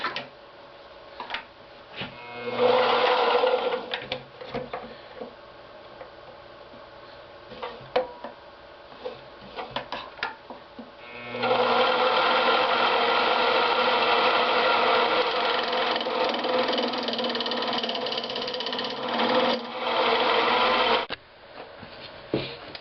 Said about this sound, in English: And I'll cut a tenon in that so I can get it with my jaws.